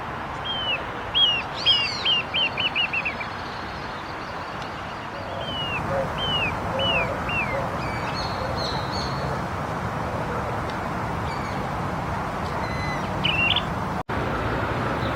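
Birds call from the trees of a Palermo park, with pigeons and various other species present. Bright repeated chirps and whistled notes come in short bursts over a steady outdoor background hiss, with a few more calls near the end.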